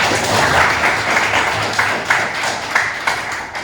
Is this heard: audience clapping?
yes